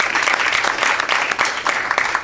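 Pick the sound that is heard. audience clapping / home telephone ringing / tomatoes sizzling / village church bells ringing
audience clapping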